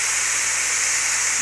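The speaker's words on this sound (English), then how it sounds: "So you're gonna press, and just be careful because that steam is hot." Hot steam hisses steadily and loudly from the pressure-release valve of a pressure cooker holding frozen chicken, a continuous bright rush with no pauses.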